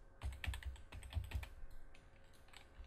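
Quick bursts of close computer keyboard typing used to enter commands in the video game Modern Shooter, several keys struck rapidly in clusters with short pauses between, fairly soft and with no talking.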